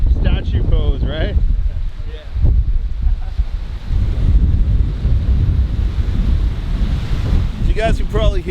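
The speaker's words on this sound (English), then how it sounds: "As you guys can probably hear, it's super windy out here" Strong, steady wind buffets the microphone at a lake beach, a continuous roaring rumble with water washing in, while a person talks briefly at the start and again near the end.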